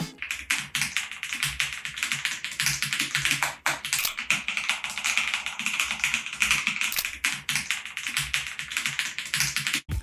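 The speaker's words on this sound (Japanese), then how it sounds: "どちらもコトコトコトととても心地のいい音でタイピングが楽しくなります。" Steady, rapid clacking of a mechanical keyboard with red and brown switches being typed on continuously, close up and crisp, with no voices.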